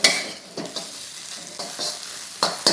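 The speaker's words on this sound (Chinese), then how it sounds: "这个鸡蛋炒散了，我们就下蒜米，还有的就是这个白玉菇下" Garlic and white beech mushrooms stir-fried with scrambled egg in a wok for an old-style fried noodle dish, giving soft sizzling with several scraping stirs of the spatula, fairly close and steady.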